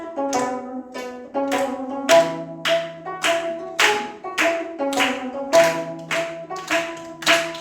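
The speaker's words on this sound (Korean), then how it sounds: "이것도 박수 치면서 함께 해보도록 하겠습니다" A church congregation claps along in time to the Korean folk song Arirang, sharp unison claps landing on a steady beat over a sustained sung or played melody, bright and close.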